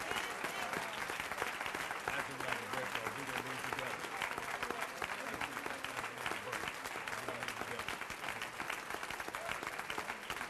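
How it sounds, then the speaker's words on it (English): An audience applauds continuously for several seconds, dense clapping from a large crowd in a hall, with a voice speaking over it. "Please, another round of applause for Mr. TV1, Roland Martin."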